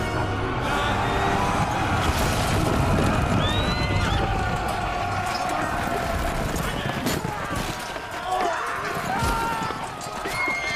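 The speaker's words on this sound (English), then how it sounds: "Oh, trampled by horse." Horses gallop and trample with clattering hooves and whinnies in a busy video game battle, loud and continuous amid crashing game sounds.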